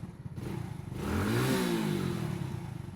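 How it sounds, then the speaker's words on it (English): A small moped engine runs steadily, rising in pitch and loudness near the middle as it revs up before easing off, with a low mechanical hum throughout and no talking. "This thing is so much quieter than the other mopeds."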